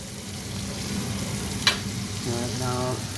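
A halal T-bone steak frying in butter in a pan, a steady close sizzle and bubbling with one sharp clink midway and brief spatter toward the end, with no talk.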